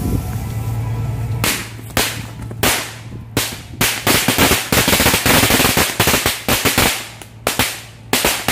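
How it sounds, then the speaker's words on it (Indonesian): A bundle of match firecrackers set off during an Eid al-Adha celebration crackles in a rapid, dense string of sharp, loud pops and bangs, close by, lasting several seconds with brief gaps. "Sekarang kita cobain petasan korek 1 gepok."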